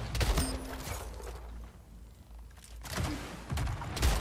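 Rocket launcher in the video game Splitgate fired over and over, with loud blasts at the start and end and a quieter stretch of rumbling in between, heard without any talk.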